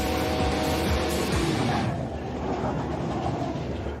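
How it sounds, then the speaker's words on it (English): A freight train rolls past on a Rocky Mountain railroad track, a loud, dense rumble and rattle close by that eases slightly midway through. "let trains go by."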